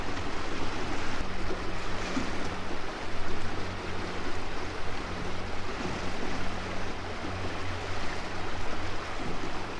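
Steady, loud rush of water gushing around a houseboat inside a lock on the River Murray, continuous turbulent churning with a low engine-like hum underneath and no talk.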